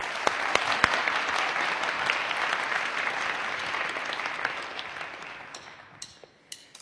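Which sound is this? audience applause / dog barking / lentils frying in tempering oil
audience applause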